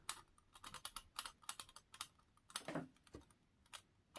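Typing on a computer keyboard, with bursts of quiet, close key clicks in an irregular rhythm and a couple of short pauses, with no talking.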